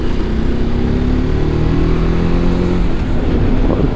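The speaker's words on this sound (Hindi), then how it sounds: "गांव का ट्रैफिक, ये वाला ट्रैफिक ज़्यादा खूबसूरत है भाई।" Steady drone of rural village road traffic, a car engine revving and humming close by, with motorcycle-like tones rising and falling continuously throughout, loud and unbroken with no voices.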